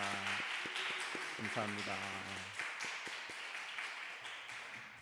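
A church congregation at a Friday prayer service applauds steadily, a dense wash of clapping that continues under a voice and tapers gently toward the end.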